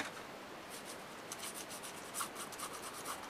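Light hand rubbing across a journal page, a soft, steady papery rasp close by with faint scratchy strokes repeating through the moment, quiet and without talk.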